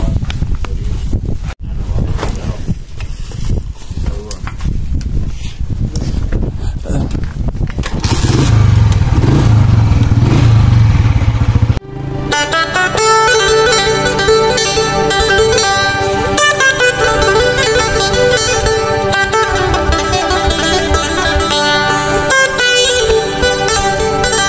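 A motorcycle climbs a mountain road in Chitral, its engine droning steadily under strong wind buffeting the microphone, then laboring and revving harder as the ride continues.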